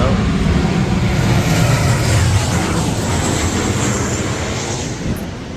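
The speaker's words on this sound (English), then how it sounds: "Sorry about them airplanes, they are super close to the house" Loud, steady roar of aircraft engines close overhead, a broad rumble that slowly fades toward the end.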